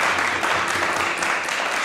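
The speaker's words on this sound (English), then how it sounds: "and a round of applause for our young artists." Audience applause for young cello artists at a masterclass, a dense steady patter of clapping filling the whole moment without a break.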